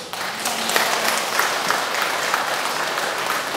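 Dense, continuous applause from an audience at a Buddhist temple dharma service fills the whole stretch, steady and fairly loud without a break.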